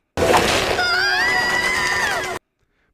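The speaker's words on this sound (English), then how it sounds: "Pixel having the same scream as Nia." A loud cartoon scream from the animated series Ninjago, a robot character's voice reused from another character, rising and wavering, sustained for about two seconds and then cut off sharply into silence.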